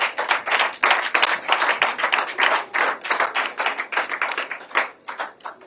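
A church congregation at a Sunday service claps together to acclaim the Lord, a loud, dense run of many hands striking in a quick, rhythmic beat that carries without break.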